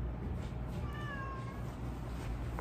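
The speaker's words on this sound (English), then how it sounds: "We're traveling, Murty Cat" A cat gives one faint, drawn-out meow while travelling with luggage on a hotel luggage cart, heard quietly over a steady low background rumble.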